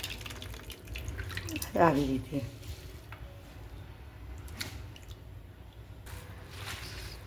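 Grated raw potatoes being rinsed by hand in water in a home kitchen, with wet squishing, sloshing and dripping, a clearer splash near the middle, under a woman's speech.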